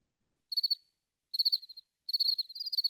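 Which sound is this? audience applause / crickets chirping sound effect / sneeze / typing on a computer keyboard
crickets chirping sound effect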